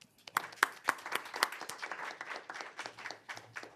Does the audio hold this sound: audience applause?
yes